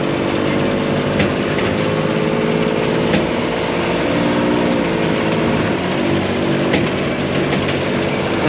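A small open motor engine runs on a tora-tora vehicle carrying riders, a loud continuous chugging hum with steady rattle throughout, close by and alone.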